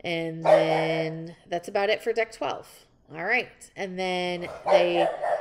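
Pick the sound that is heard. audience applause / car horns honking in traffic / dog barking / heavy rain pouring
dog barking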